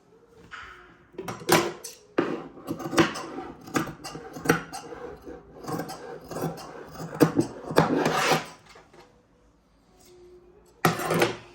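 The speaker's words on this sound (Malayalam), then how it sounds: "ഇനി ബാലൻസ് ഉള്ള തുണി ഒന്ന് ജസ്റ്റ് ഒന്ന് കട്ട് ചെയ്യാണ്" Scissors cutting away leftover fabric while stitching a saree blouse, a series of sharp snipping and rasping bursts in irregular runs with short pauses, close and clear.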